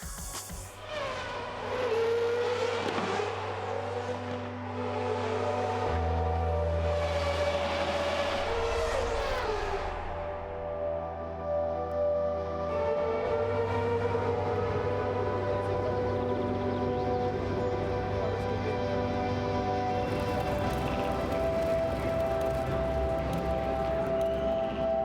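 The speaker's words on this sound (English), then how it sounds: "to hear the raw energy that a Grand Prix car can produce" A Red Bull Formula One car running in Cape Town, its engine screaming through high-revving passes with rising and falling pitch, loud and sustained over a steady low drone.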